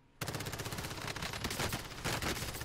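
Rapid automatic gunfire from the Warzone battle royale game, a dense, loud, sustained burst of shots starting abruptly and continuing close-up for a couple of seconds, with no voices over it.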